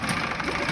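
A Honda 8 horsepower four-stroke outboard motor runs steadily at idle, a close, even mechanical drone with no talking.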